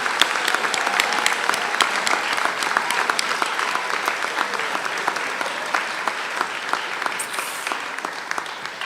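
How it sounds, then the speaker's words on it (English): Academic assembly audience at Subiaco Academy applauding scholarship achievements, a steady, full round of clapping from a sizable crowd, moderately loud and even, fading slightly near the end. "And I think that deserves a round of applause."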